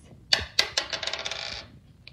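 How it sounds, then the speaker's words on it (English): Dice rolled across a tabletop during a Unifix cube counting game, giving a quick series of hard clattering impacts that bounce and skitter to a stop, close and distinct with no talk. "roll the dice"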